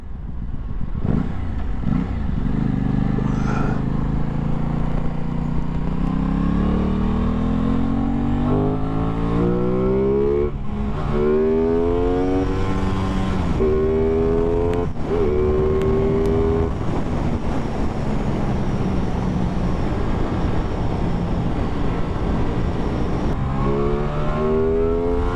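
An Aprilia Tuono 660 twin motorcycle in its 70 kW version, engine heard while riding: loud, close exhaust rising through repeated rev sweeps with gear changes and wind roar.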